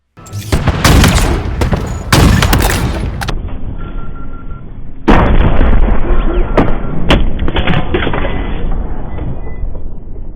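Standard sniper rifle shots in the Halo Infinite video game: several loud, sharp booming reports, a couple close together early and another later, each trailing into a sustained echoing rumble.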